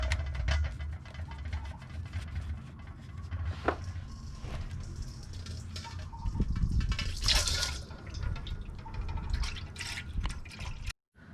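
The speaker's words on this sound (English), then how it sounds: "Just unscrew it and drain the coolant." Coolant trickles and drips from the radiator drain plug of a 2009 Nissan Frontier SE after the plug is unscrewed, a close, continuous splashing flow with brief louder gushes.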